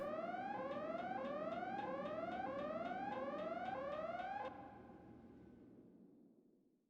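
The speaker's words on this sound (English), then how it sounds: "The alarms are still going off." An alarm blares in the video game Xenosaga Episode 1, a steady train of rising electronic whoops repeating about every half second over a droning hum, then stopping abruptly so only the fading hum remains.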